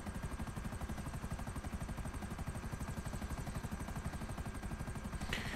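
A helicopter in the video game GTA V Online makes a steady, fast rotor thump with engine drone, close and continuous the whole time. No voices come in over it.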